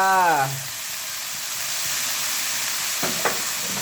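Bean sprouts and pork blood stir-fry in a hot pan with a steady bright sizzle and hiss, a couple of spatula scrapes near the end, and a short voice at the very start.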